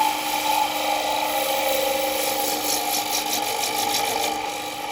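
A bowl gouge with a 5/8-inch spindle shaft takes a gentle cut through a wooden bowl being hollowed on a lathe, a steady continuous rasping shear with the motor hum running throughout, close and fairly loud with no speech.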